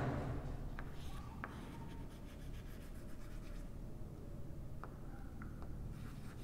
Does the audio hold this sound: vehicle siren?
no